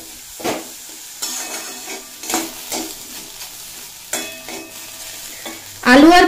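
Potatoes and eggplant frying in a pan: a soft sizzle broken by several close spatula scrapes and stirs at uneven intervals, ending in a sudden loud burst of sizzling, with no voices.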